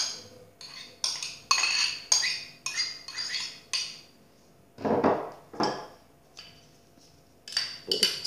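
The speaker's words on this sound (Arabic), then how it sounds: "غادي نضيف الخضر" Chopped vegetables clatter into a bowl for a rice salad, a series of close clinks and scraping bursts of cutlery against dishware with short pauses between, no talk.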